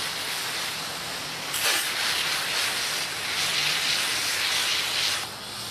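A garden hose jet sprays water onto a mountain bike's chain ring during cleaning, a steady loud hiss that continues throughout with a brief surge partway through and no talking.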